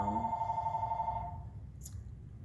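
A house telephone rings indoors, a steady electronic trill that cuts off after about a second, followed by a brief faint click in a quiet room.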